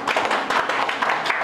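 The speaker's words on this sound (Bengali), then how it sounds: "একটা হাততালি দেন" A crowd at a political speech applauds steadily, a dense continuous wash of many hands clapping at close range with no pauses.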